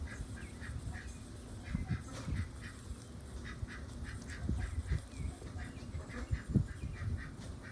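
Ducks quack and chatter repeatedly nearby, with scattered bird calls over a steady outdoor background.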